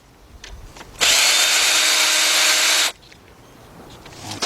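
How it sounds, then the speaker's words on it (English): A cordless impact gun with a 10mm socket runs in one steady, loud burst of nearly two seconds, loosening a bolt on a 2003 Jeep Liberty Sport 3.7 engine during a partial rebuild, with quiet shop ambience before and after. "So I'm gonna use my same cordless gun. With my 10mm on it."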